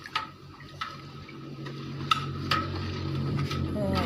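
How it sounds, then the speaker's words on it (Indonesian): A spoon stirs a big pot of water with two and a half kilograms of sugar for ginger fermentation, giving scattered clinks and taps against the pot over a soft swishing background, moderately close. "kemudian diaduk."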